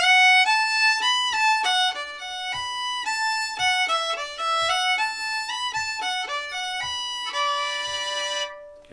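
A fiddle plays the first phrase of Crook Brothers Breakdown, a steady stream of bowed notes in a lively old-time rhythm, close and clear, with faint regular taps underneath and no talking.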